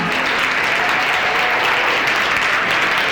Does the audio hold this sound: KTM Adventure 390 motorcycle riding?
no